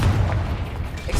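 A Bombarda spell detonates in Hogwarts Legacy, a short, heavy boom with a dense low rumble that stays loud across its brief length.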